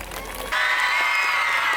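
An audience bursts into applause for dancers at a stage performance. After a short quieter lead-in, clapping and cheering rise suddenly into a full, steady roar.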